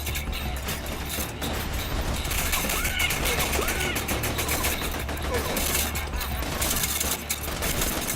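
Shotgun blasts and mixed gunfire in Borderlands 2 ring out in a dense, continuous barrage of overlapping shots and mechanical clatter under steady game noise, with no single blast standing clear of the din.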